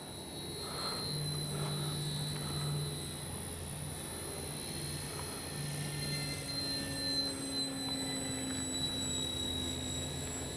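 An FMS Ranger 1220 RC plane in flight, a steady high electric motor whine with a sustained tonal drone holding level throughout against outdoor background noise, no voices.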